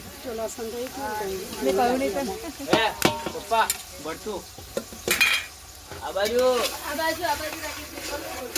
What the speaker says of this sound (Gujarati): વઘારેલી ખીચડીનો વઘાર થઈ રહ્યો છે.